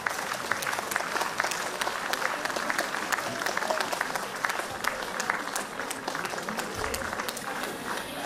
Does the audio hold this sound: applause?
yes